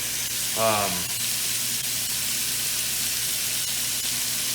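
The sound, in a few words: beef searing in a hot pan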